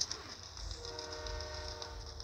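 A passing train in the Fortnite video game: a rumbling rail roll with faint clacking and a high whistle-like tone, fairly quiet and continuous, with no speech.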